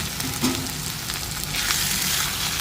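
Fried potatoes go into keema sizzling in hot oil for a desi aloo keema, bringing a close, steady hiss and crackle with light stirring and a brief louder splash of frying.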